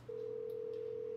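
A telephone in a plaza building sounds a steady, unbroken dial tone for over a second. The tone is clear but fairly quiet over low room hum.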